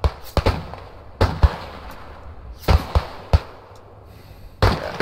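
Sharp gunshots ring out in the WW1 shooter game Beyond The Wire, a sniper rifle among them. Several loud, close cracks fire at irregular intervals, each with a short echoing tail.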